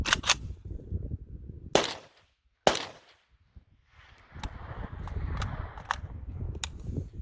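Three loud close gunshots from a New Century Arms VSKA rifle, each a sharp crack with a short ringing tail and irregular gaps between them, followed by lower shuffling and handling noise with faint clicks.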